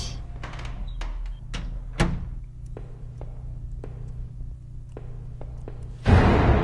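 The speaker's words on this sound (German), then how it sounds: "Diese Tür." A door opens in the horror video game Home, a soft creak and thud over a low steady hum, with scattered quiet clicks and taps, then a louder burst of noise at the end.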